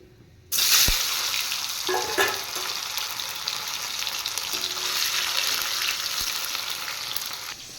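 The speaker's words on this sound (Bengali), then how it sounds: "এবার আমি তেলে দিয়ে দিচ্ছি শুকনো লঙ্কা জিরে আর তেজপাতা" Dried red chillies, cumin seeds and bay leaves hit hot oil with a sudden burst, then settle into a loud, steady, crackling sizzle that fills the rest of the clip, with faint clinks in the pan.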